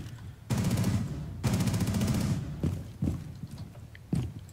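Rapid automatic rifle fire in the tactical shooter Rainbow Six Siege: two loud, close sustained bursts of rattling shots, followed by several single gunshots with short echoes, over a faint game background.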